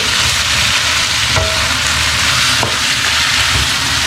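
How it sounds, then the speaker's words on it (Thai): Massaman curry paste and meat are stir-fried in a pan, giving a steady, loud sizzle throughout, with a couple of sharp clinks as the utensil hits the pan. "ที่เราผัดเครื่องแกงเข้าเนื้อแล้วนะคะ"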